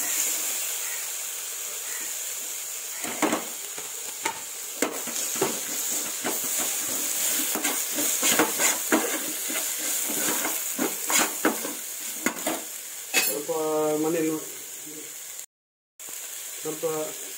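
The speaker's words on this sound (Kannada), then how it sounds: "ಈಗ ಟೊಮೆಟೊ ಹಾಕ್ತಿದ್ದೆ." Tomatoes frying in plenty of oil for a sting ray fish curry, with a steady close sizzle, scraping stirs and clinks of a spoon against the pan. A person talks over it, and a short dropout comes near the end.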